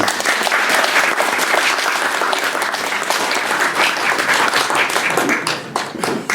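Loud, sustained applause from a wedding crowd fills the room, with many hands clapping densely and evenly throughout before it begins to thin toward the end.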